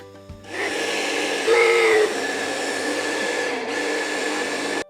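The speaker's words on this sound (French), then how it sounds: "On va venir mixer le tout. Il faut quand même pas mal mixer pour que ça devienne une purée." Food processor blending pistachio praline into a paste, a steady loud whirring drone that runs almost unbroken for several seconds, with a brief higher-pitched strain partway through, no talking.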